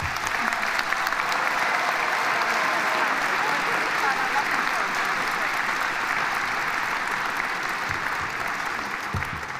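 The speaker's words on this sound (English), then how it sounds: "let's give a big round of applause to the graduating class of 2023" A large crowd at a university convocation ceremony applauds the graduating class of 2023 with steady, dense clapping that holds at a loud level throughout, with no pauses.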